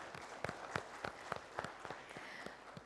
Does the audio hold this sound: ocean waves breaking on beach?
no